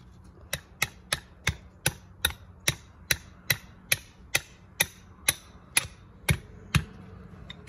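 Hammer driving nails through plastic snap edge restraint along a paver installation: about fourteen sharp, evenly spaced strikes, close and loud, with no talking.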